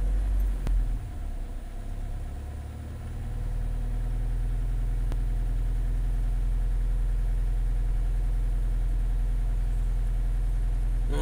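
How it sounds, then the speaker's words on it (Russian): A turbo diesel engine under boost adjustment idles with a deep steady drone, dips briefly, then climbs to a fuller, louder sustained hum of raised revs that holds evenly to the end. "И сейчас попробуем добавить 1500 оборотов сделать."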